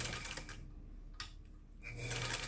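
A 1927 Singer treadle sewing machine runs in short bursts of mechanical clatter and whirring, pausing briefly in the middle before starting up again, close and fairly quiet.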